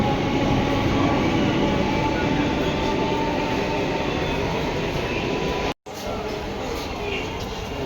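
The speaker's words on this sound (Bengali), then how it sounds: "ট্রেন চলে যাচ্ছে" A train pulling away, its dense, steady rumble and rattle of carriages loud and close, filling the whole stretch with a brief cut near the end.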